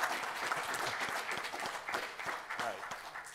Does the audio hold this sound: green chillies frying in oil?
no